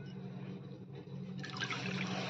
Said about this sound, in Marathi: आपण पाक करण्यासाठी आता कढाईत 2 वाट्या पाणी ठेवून देणार आहोत